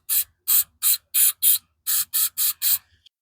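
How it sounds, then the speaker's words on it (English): Nine sharp bursts of aerosol cleaner are sprayed into a tiller's carburetor bowl and main jet, close and loud, in a quick uneven rhythm with a tiny click at the end. "Let's give it a spray out."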